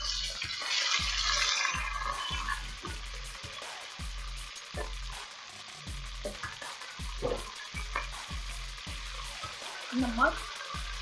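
Chicken pieces fry in a hot pan for kachnar chicken, a steady close sizzle broken by regular stirring scrapes and a low pulsing thump throughout.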